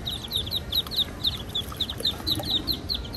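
Muscovy ducklings carried in a bucket peeping, a rapid series of high, thin chirps repeating in a quick rhythm over a low, rumbling background, close and clear with no talking.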